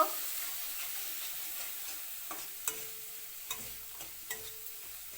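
A spice paste of cumin, coriander and turmeric powder with salt and a splash of water is stir-fried in a pan, giving a soft low sizzle with scattered spatula scrapes and taps.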